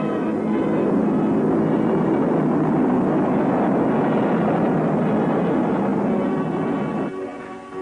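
A B-36 intercontinental bomber drones overhead at a 1950s air show, a loud, steady rumbling engine roar that holds for most of the stretch before easing off near the end.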